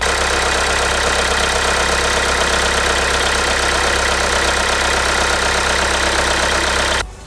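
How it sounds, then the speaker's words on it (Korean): A diesel SUV engine with about 90,000 km idles loudly and steadily up close, with an irregular knocking rattle running through it, then drops away at the end. "엔진 소리가 참 이상하게 들립니다."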